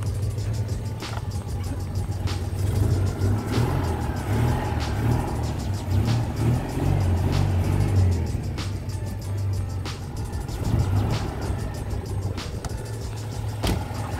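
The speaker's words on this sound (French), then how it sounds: "Vas-y, accélère un coup." A Citroën 2CV6 Spécial, restarted after four years parked outdoors, idles with a loud, close engine note that swells into several revs and then eases back, with a steady throbbing rumble throughout.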